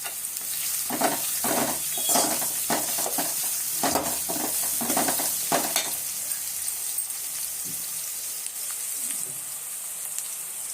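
Onions fry in a pan with a pinch of salt, a loud continuous sizzle broken by repeated scraping stirs for the first half, then settling into a steady hiss.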